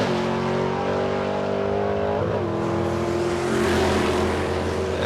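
A drag racing car launches at a night drag meet at Calder Park and accelerates hard through a manually shifted gearbox, its engine roaring loud and steady with a brief dip at a gear change.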